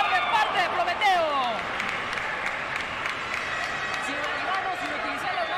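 A crowd applauds and cheers at a lucha libre wrestling match in a large space, with whistles and a sustained roar of clapping throughout.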